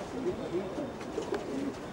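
Pigeons cooing inside a home loft in Abbassia, Cairo: soft, repeated low coos come and go over a steady murmur of background noise, with a voice faintly present.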